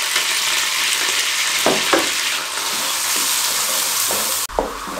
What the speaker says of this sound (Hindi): 1 अदद प्याज दरमियाने साइज का चॉप किया हुआ शामिल कर देंगे इसके अंदर और इसको लाइट ब्राउन होने के लिए छोड़ देंगे मीडियम फ्लेम पे